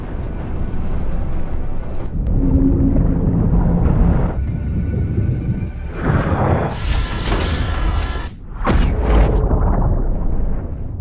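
Torpedo explosions go off near a submarine in the film Hunter Killer: deep rumbling booms roll in waves, with a sharp bright burst of debris and rushing water near the end, loud and close.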